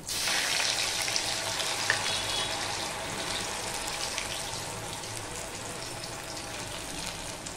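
Poha snack frying in a pan, a dense crackling hiss like light rain, steady and fairly quiet throughout with a few sharper pops, no voices.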